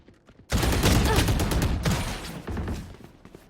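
Rapid automatic gunfire in a Valorant match at a livestreamed esports tournament, a loud dense burst of shots lasting a few seconds with a brief second volley, close and sharp.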